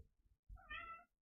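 A single short cat meow, close and clear, after a moment of faint low rumbling.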